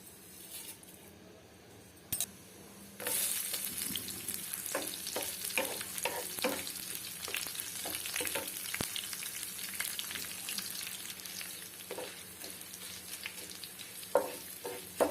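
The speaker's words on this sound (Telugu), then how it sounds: "దీనికి ఇప్పుడు తాలింపు వేయాలి" A tempering of spices crackles and sizzles in hot oil for moringa leaf chutney, starting suddenly and holding a steady close frying hiss with scattered pops and utensil clinks throughout.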